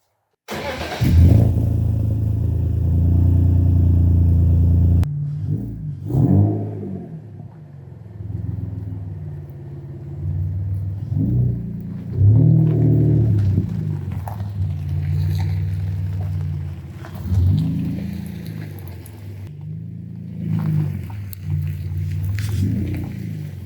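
A BMW E46 rolls along on BC Racing coilovers, its engine rumbling close and steady with a loud low drone at first, then rising and falling in repeated revs through the drive, alone without talk.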